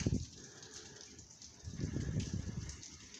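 Steady rain falls in Las Vegas, heard from beneath an awning as a soft, continuous hiss with gentle swells of patter, faint and fairly close, with no voices.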